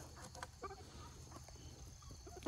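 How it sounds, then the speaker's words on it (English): Chickens cluck softly while pecking at thrown food, giving a few scattered low clucks against a faint background hum, quiet and brief. "Chickens will eat anything you throw at them."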